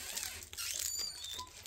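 Crinkly plastic wrapper of a Kinder Bueno White bar being torn open, faint short rustles and crackles close to the microphone.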